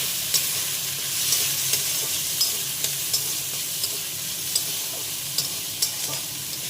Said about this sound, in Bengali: তো আমি এর মধ্যে অ্যাড করব এবার কেটে রাখা সেই পেঁয়াজটা। আর তার সঙ্গে দিয়ে দিলাম কেটে রাখা ক্যাপসিকামটা।